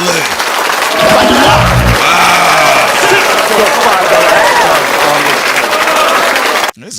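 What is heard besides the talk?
audience applause and cheering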